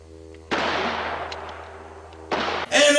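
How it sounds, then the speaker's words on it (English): A gunshot in a low-budget western movie: a loud booming report with a long decaying tail, followed by a second blast and a harsh burst of sound, over a low hum. "it cuts to Ron shooting Vernon"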